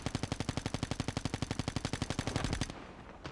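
Rapid automatic gunfire in a video game, a fast, even burst of loud shots for about two and a half seconds that then cuts off abruptly.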